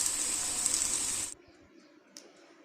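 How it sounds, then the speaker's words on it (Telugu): Tap water gushes loudly into a sink while fish are washed, then stops abruptly partway through, leaving a quiet room with a faint clink. "చేపలు కడుక్కొని శుభ్రంగా పెట్టుకోవాలి."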